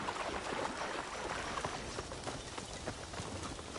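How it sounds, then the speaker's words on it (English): Horse galloping in Assassin's Creed Shadows on PS5, a steady run of hoofbeats blended into a dense, continuous wash of ambient game sound at moderate level. "we can ride a horse for some of this, as we have done it"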